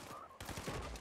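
Gunfire in the video game Fortnite, a short, dense burst of rapid shots that is faint and somewhat muffled and fills the clip.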